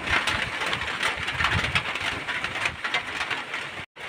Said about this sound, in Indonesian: Hujannya makin deras ya.